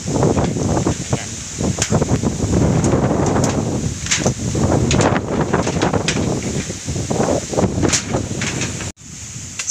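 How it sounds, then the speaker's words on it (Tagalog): Strong super typhoon wind roars nonstop in the Philippines, a loud, dense rush with gusting swells and rustling debris, briefly dropping away near the end. "Yung hangin."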